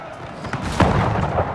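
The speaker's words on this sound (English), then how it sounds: "It's perfect cannon shots going up" Cannon fire in a Napoleonic-era battle in the strategy game Napoleon: Total War, a burst of booming shots close together over about a second and a half, with faint battle noise behind.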